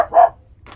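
A dog barks from a few doors up along the street, one strong bark and a shorter second yelp, fairly clear against quiet surroundings.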